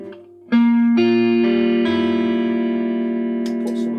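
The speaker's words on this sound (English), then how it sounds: "We'll put a little bit of reverb on that" Electric guitar chords ring out one after another, each strummed chord sustaining and blooming into a spacious reverb wash.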